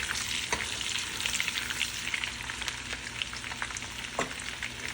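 Potatoes frying in a mix of ghee and oil, a dense continuous sizzle with occasional light clicks of stirring, close and fairly quiet, no voices.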